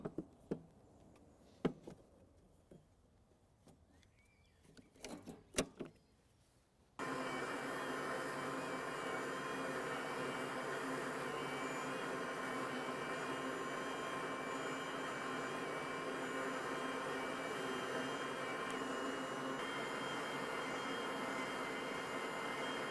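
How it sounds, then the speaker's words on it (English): An Allett Stirling cylinder mower with a 6-blade cutting cylinder cuts grass: after a few scattered knocks and clicks, the motor and whirring reel start abruptly and run loud and steady to the end. "So these are the grass clippings that I've just cut now with the 6-bladed cartridge."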